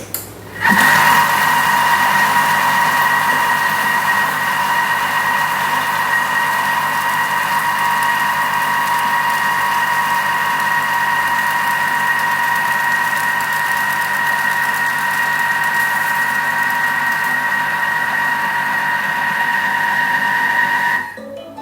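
A Thermomix works cookie dough with two added eggs at speed 3, giving a steady, loud motor whir with a constant pitch that runs unbroken for about twenty seconds and then stops.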